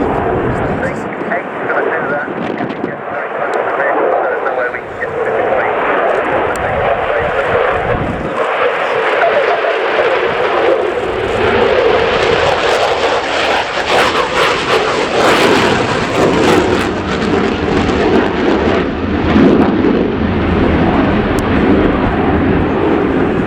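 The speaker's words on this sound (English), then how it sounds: "This Su-27 one of about 35 still operational with the Ukrainian Air Force." A Ukrainian Air Force Su-27 fighter jet flies a display at the RIAT air show at Fairford in 2017, a loud, sustained jet roar that swells and shifts in pitch as it passes, with a voice talking over it.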